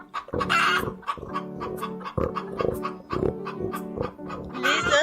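Hens cluck and a rooster crows in a farmyard henhouse, a busy repeating chorus of rhythmic clucks and calls close by, with a louder crow at the end.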